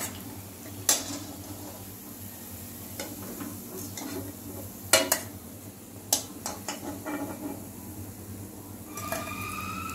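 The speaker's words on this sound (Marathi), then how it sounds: "अशा रीतीने आपण सगळे तळून घेऊया। हे बघा, हे असं आपण तळूया।" Cabbage manchurian balls deep-frying in hot oil, a continuous bubbling sizzle with scattered clinks of a metal spoon or ladle against the pan, close and fairly steady.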